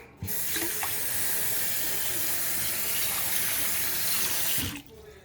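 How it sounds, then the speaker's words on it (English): Water gushes from a kitchen tap into a bowl of saltfish being rinsed of salt, a steady close splashing stream that starts abruptly and stops after about four and a half seconds. "if it's too salty, you just add some more water to it"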